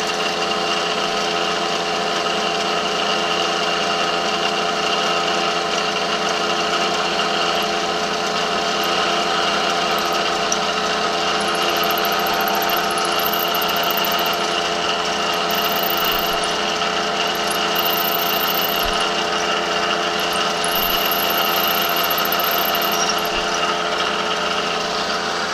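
Power drill running steadily at a constant high-pitched whine for a long stretch, drilling by hand rather than at a bench vise, with faint squeaks above it.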